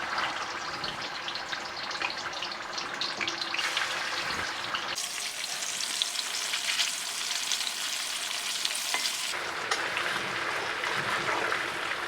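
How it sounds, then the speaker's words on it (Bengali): Chicken drumsticks fry in a pan for a Bangladeshi chicken roast, giving a steady, close sizzle with a hissing crackle that holds at an even level throughout and shifts slightly in tone partway through. "এখন আমি এর মধ্যে এই চিকেন টেংরিগুলোকে একটু ভেজে নিচ্ছি"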